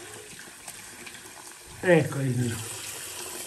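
Hot water running from a tap to prepare for shaving, a soft steady flow with a brief louder splash partway through, as someone speaks over it.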